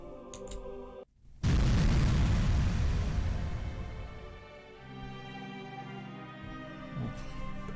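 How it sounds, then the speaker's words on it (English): A red signal firework fired into the sky in the visual novel Higurashi, opening with a sudden loud boom that rolls into a long, dense rumbling burst slowly fading under game music. "Takano fired the signal, which burst at high altitude into a red firework"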